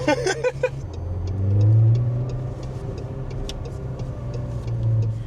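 A very low-slung supercar pulls away, its deep engine rumble swelling to a loud peak, then settling into a steady cruise heard from inside the cabin, with light ticking sounds above.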